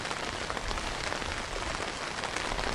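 Heavy rain falls during a strong storm at a camp, a dense, constant hiss of drops drumming on nearby surfaces, loud and unbroken with no voices.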